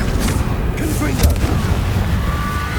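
A Confringo blasting spell from Hogwarts Legacy bursts with a loud, close boom and rumbling impact, layered with game effects and a voice calling out.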